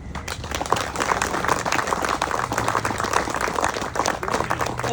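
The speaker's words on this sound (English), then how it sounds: "let's all give Robbie a cheer and applause for that." A group of men at an outdoor walk-and-talk gathering clapping and cheering together, a dense, steady burst of applause at close range lasting throughout.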